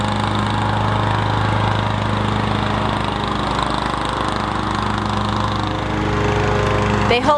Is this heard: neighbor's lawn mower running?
yes